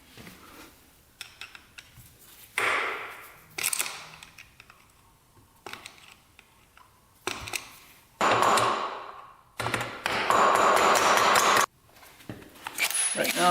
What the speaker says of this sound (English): You just have to tap that little piece that's bent up.